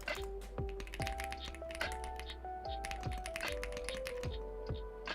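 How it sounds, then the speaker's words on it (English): Rapid typing on a computer keyboard, close and fairly loud, with clustered clicking keystrokes in uneven bursts over a steady background of game music tones, and no talk. "Oh, you guys can just hear me typing."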